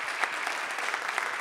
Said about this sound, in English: How about another round of applause for our fantastic presenters?